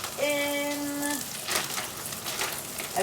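Shallots fry in a pan for a vegan dish, giving a steady, bright crackling sizzle. A voice is briefly heard at the start.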